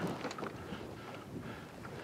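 Steady wind noise buffets the microphone on the Araguaia River during a fishing trip from a boat, a broad continuous rush with water and engine rumble beneath, no pauses across the stretch.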